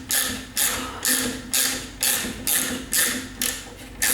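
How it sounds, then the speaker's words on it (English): A Facom 1/4-inch and 5/16 ratcheting bit wrench clicks through nine even, evenly spaced ratcheting strokes, loud and close, with no other sounds. "I've got this Facom. It's 1/4" and 5/16 ratcheting bit wrench."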